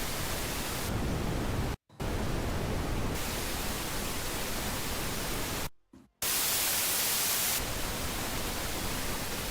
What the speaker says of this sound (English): because it's white noise, not pink